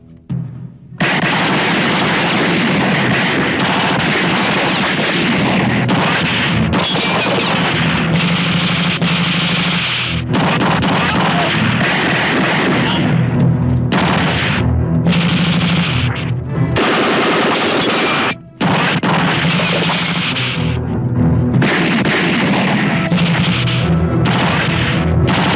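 Dense, loud bursts of machine-gun fire and heavy explosions fill a Filipino action movie scene, a nearly continuous barrage with one brief break before the firing resumes.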